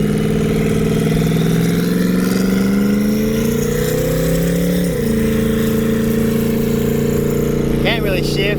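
A 2015 twin-turbo Mustang with hood exit exhaust gives a loud, low exhaust drone heard from inside the car, the pitch climbing slowly, dipping, then settling into a constant rumble.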